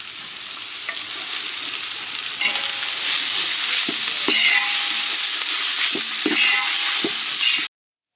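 Goat intestine gravy sizzles steadily in a pan as mint leaves go in, with a constant hiss, a few stirring clinks near the end, and the sound cutting off abruptly.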